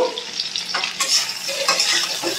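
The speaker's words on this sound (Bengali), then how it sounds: "একটু নাড়াচাড়া করে ঢাকা দিয়ে আঁচটা কমিয়ে রেখে দেব।" Potato, eggplant and drumstick pieces being stirred in a frying pan, a steady close sizzle broken by a few scraping strokes of the spoon across the pan.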